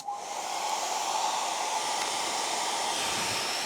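Hair dryer running at high power from an AFERIY P010 portable power station (800W, 512Wh), a steady, loud broadband whoosh of blowing air with a faint motor whine, continuous and unbroken with no talking.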